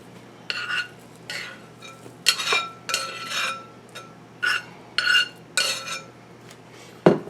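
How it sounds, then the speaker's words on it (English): Box stuffing for a smoked stuffed pork loin is dumped and scraped into a mixing bowl in a series of short clinking, rustling bursts, about eight separate knocks and scrapes against the bowl, close and fairly quiet. "So I'm going to put everything in the mixing bowl here"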